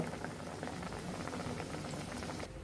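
Potato patties frying in hot oil, a dense continuous bubbling crackle heard up close and unbroken for a few seconds, with no talking.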